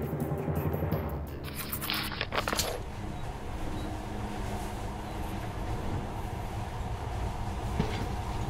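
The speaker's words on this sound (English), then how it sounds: "In the past, trains were ordinary things, but now, this monorail seems magic, doesn't it?" Monorail train in the video game Metro Last Light, a continuous low rumbling roll with rhythmic rail clatter and a brief hissing, clanking burst near the start, steady and close.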